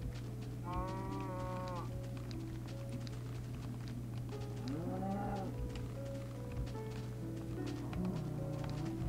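Cows in a video game mooing, two clear drawn-out moos at moderate distance over a constant low background hum, with faint hoof taps between.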